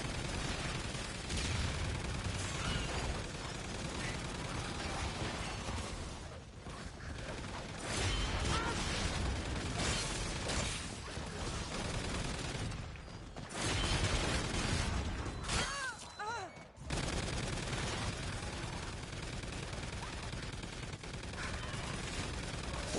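An automatic turret firing at zombies in Call of Duty zombies on the Shaolin Shuffle map: dense, sustained rapid gunfire with mechanical clatter and brief pauses, running continuously and loud throughout.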